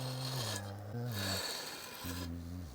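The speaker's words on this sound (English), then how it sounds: "So let's get our fret leveling beam. I've got 180, 220 on this thing." A fret leveling beam with 180-grit paper rasps along guitar frets in close back-and-forth strokes, in two stretches separated by a brief pause.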